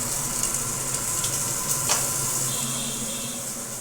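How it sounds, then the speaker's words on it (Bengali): Two pabda fish fry in hot oil in a home kitchen, a loud, close, continuous sizzle and hiss with occasional spitting pops from splattering oil, and no one speaking. "আর এদিকে মা মাছ ভাজছে, পাবদা মাছ দুটো দুটো করে ভাজতে হচ্ছে"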